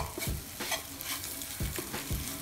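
Scrambled egg mixture stirred in a pan, a utensil scraping and clacking at an uneven rhythm over a steady soft sizzle, close and fairly quiet with no voices.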